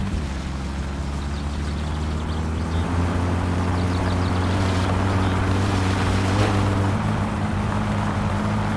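Steady engine drone of a car accelerating in the video game My Summer Car, a constant low hum with slowly rising tones, no talk over it.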